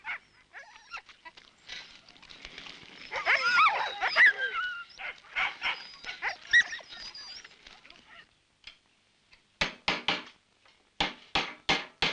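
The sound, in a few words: Greenlandic sled dogs barking and whimpering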